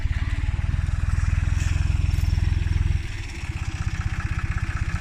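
A 2015 Tümosan diesel tractor chugs steadily up close pulling a cultivator through an apricot orchard, its deep rhythmic throb shifting in tone partway through as the load changes.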